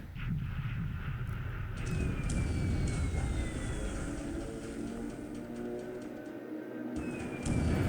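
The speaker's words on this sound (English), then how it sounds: "Torpedo bombers." Torpedo bombers attack in the War in the Pacific naval wargame: a steady, loud drone of aircraft engines with rumbling low noise and a few thin descending whistles, sustained throughout without talk.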